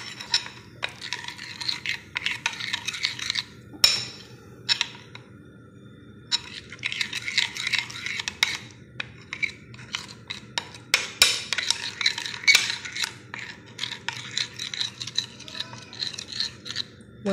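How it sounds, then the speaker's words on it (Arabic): A spoon stirs turmeric into yogurt for a face mask, giving repeated close scraping and clicking strokes against a small bowl in short bursts with brief pauses. "كتخلطيه مع الياغورت"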